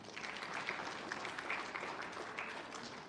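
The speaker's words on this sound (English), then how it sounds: "please clap for Rotary Australia" An audience at a diabetes awareness and fundraising event in Adelaide claps for Rotary Australia, with steady, moderately loud applause lasting a few seconds and no talking.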